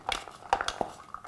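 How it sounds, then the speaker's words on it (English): Utensils clink against a bowl while mixing a salad of finely cut paneer and pomegranate, a quick run of light metallic taps and scrapes, close and fairly quiet. "Just mix everything together in a bowl."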